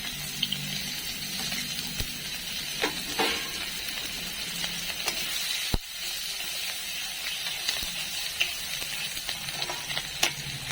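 Chopped onion, garlic and green chili fry in a pan for a potol and prawn dorma filling. A continuous hiss of sizzling oil is broken by a few sharp clacks of a utensil against the pan.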